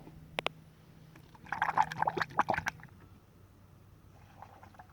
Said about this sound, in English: Alright, let's get some antifreeze in there.